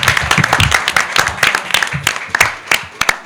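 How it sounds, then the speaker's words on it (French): An audience claps for a school team at a student quiz competition, with a dense burst of clapping that has sharp individual claps standing out and fades unevenly toward the end. "Ils méritent encore des applaudissements"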